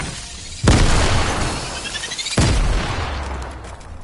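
Two loud booming grenade blasts go off in Fortnite, each a sudden crack followed by a rumbling, glassy tail, about two seconds apart, with no talk over them.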